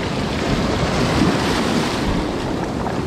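Ocean waves wash steadily onto the shore, a loud, continuous roar of surf with wind buffeting the microphone throughout and no voices.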